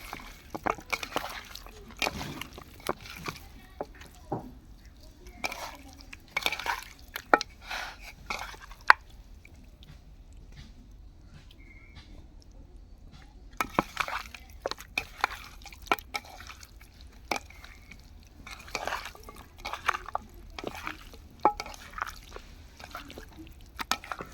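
Broiler chicken pieces hand-mixed with salt, turmeric and chili, close wet squelching and dripping in irregular bursts, with a quiet pause partway through before the squishy mixing resumes.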